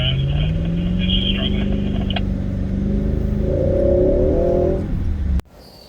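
A Nissan Patrol Y62 engine labouring in first gear off-road in four-wheel drive, a loud steady drone that rises slightly in pitch before cutting off abruptly, with a voice talking over it.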